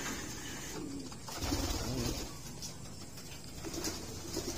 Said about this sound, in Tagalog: Ito yung mga breeders ko, mga kalapatids.